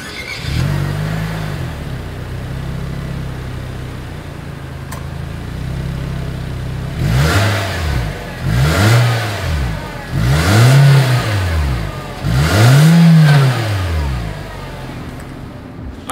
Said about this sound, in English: Here is the exhaust clip for the 2020 Nissan Versa.